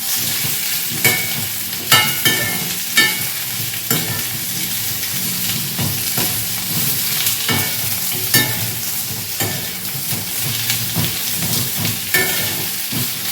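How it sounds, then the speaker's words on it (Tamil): About 200 grams of ginger sautés in a pan for ginger-tamarind chutney, a loud, steady frying sizzle with regular scraping stirs roughly once a second, close up and without voices. "இஞ்சி மட்டும் நல்லா வாசனை வர அளவுக்கு நல்லா வதக்கிடுங்க"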